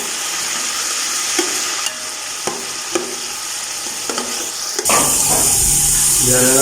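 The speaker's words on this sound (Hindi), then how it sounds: "अभी हम मटर डाल रहे हैं। मटर को करते हैं अच्छी तरह फ्राई। थोड़ी देर इनको भून लेते हैं।" Green peas frying in hot ghee in a pan, a loud steady sizzle with scraping stirs, swelling into a brighter hiss near the end, close and without talking.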